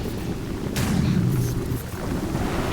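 Thunder from lightning in a tornado video game: a heavy, broad rumble with a sharper crack partway through, loud and sustained over a constant stormy roar.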